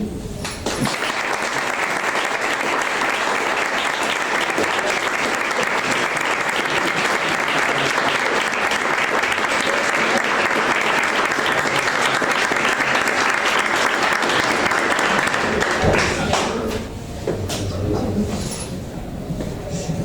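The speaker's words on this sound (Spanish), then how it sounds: "yo sí quiero pedir un aplauso por el debut de la Xana en estos actos" An audience at a club members' day event during Semana Grande breaks into loud, continuous applause celebrating a debut, dense clapping sustained for around fifteen seconds before thinning out into scattered claps and room noise.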